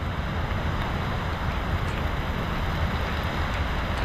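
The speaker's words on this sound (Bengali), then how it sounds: "ঝুমঝুমায় বৃষ্টি পড়তেছে" Heavy rain pours in a steady, dense hiss along a seafront walkway at Gardens by the Bay, Singapore, continuous and enveloping with wind noise on the microphone.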